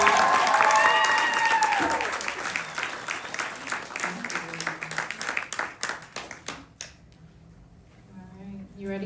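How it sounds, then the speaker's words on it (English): Applause from the crowd at a poetry performance night at The Philly Pigeon, dense clapping that thins into scattered individual claps and dies away by about seven seconds, leaving quiet room tone with faint talk. "Can we clap it up one more time for Karen Smith?"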